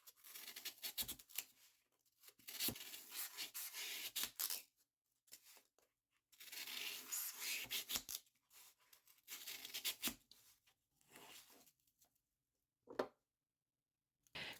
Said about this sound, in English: Using your cut ring as a guide, trim a piece of florist foam to size.